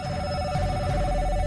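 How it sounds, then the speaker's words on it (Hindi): A telephone rings with a steady, electronic warbling tone as a sound effect in a Hindi audiobook drama. It is loud and continuous, with no voices over it. "तभी सचिन का फोन बज उठा।"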